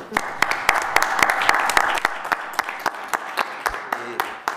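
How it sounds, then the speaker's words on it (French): Audience applause in a municipal council chamber during a special session, with scattered sharp claps over a dense clapping wash, fading into separate claps by the end, and a voice talking faintly underneath. "Alors, moi, je vous applaudis en premier."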